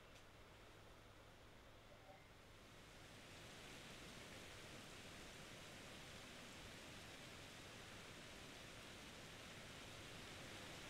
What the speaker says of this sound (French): Il pleut, on dirait que c'est de plus en plus fort.